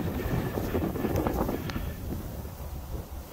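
Strong wind buffets the microphone outdoors during a drone flight test, a steady broadband roar and rumble with gusty swells throughout.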